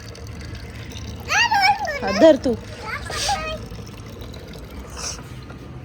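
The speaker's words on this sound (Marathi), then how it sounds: "हिला खूप हौस आहे पाणी घालायची झाडांना" A little girl pours water onto garden plants, and a soft trickle and splash runs beneath an adult and someone talking nearby.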